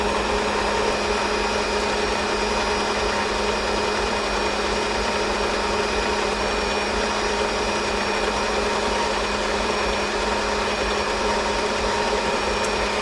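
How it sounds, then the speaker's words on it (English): Electric mixer beating an all-in-one sprinkle cake batter at higher speed, a loud, steady motor whir with a constant hum that runs unbroken throughout, close and with no talk. "At this stage we can increase the speed on our mixer, and that'll probably need to mix for about a minute or so"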